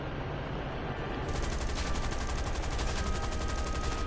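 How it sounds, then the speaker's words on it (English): Gunfire raking an aircraft in War Thunder, a dense sustained rattle of rapid hits that thickens and grows brighter partway through, steady and loud with no talk over it. "Taking heavy fire."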